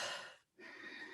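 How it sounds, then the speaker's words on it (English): A storyteller voicing Giraffe takes a deep, audible breath, a soft airy inhale that dips briefly into silence and then releases as a longer breathy exhale, close and quiet. "Giraffe realised he was being impatient, so he took a deep breath."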